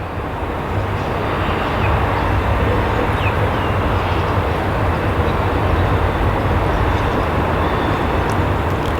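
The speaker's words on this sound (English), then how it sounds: "So now we do have a train in the background" A train passes in the background outdoors, a loud, steady broadband rumble that stays constant throughout with no clear breaks.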